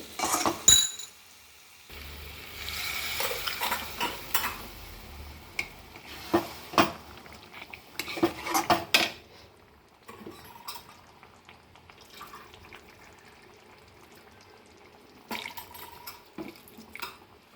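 Water poured into a pot of chicken curry cooked with pitha guri rice flour, a splashing, gurgling pour among clinks of utensils and pot scrapes, close and moderately loud, with quieter stirring afterward.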